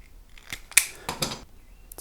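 Soldered wire ends on a Telecaster guitar build are trimmed with cutters, giving two or three sharp close snips over about a second amid faint workshop noise, with no talking.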